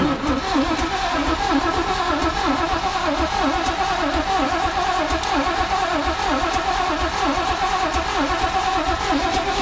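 A 1980s square-body truck engine cranking without starting, churning steadily and loudly for the whole stretch, a dense mechanical drone with no voices over it.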